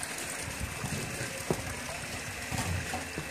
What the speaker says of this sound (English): This is our single walk rock waterfall.